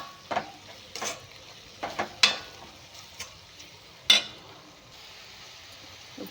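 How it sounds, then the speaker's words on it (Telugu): Capsicum fries in a pan under a soft, steady sizzle while a spatula stirs it, giving sparse, sharp clicks and scrapes against the metal at irregular intervals, close and without speech. "ఇవైతే ఫ్రై అవ్వాలి కొద్దిగా 1-2 మినిట్స్ ఇలా కలుపుతూనే ఉండాలి, ఎందుకంటే మాడిపోతుంది కాబట్టి"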